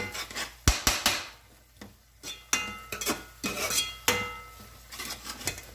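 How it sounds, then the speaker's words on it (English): Chili rice with beans stirred in a pot, with repeated scraping and clinking of a utensil against the pot in an uneven rhythm of close, moderately loud strokes. "Now, give this a good little stir."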